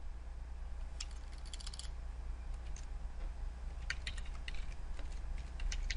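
Keys clatter on a computer keyboard in short bursts of quick clicks separated by pauses, close and crisp over a faint steady hum, with no voices.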